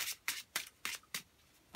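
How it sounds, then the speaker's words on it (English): A deck of Yu-Gi-Oh trading cards is hand-shuffled at a table, six or so quick, crisp riffling bursts at a steady rhythm, close and fairly quiet, with no talking. "I'll hand you that for you to shuffle."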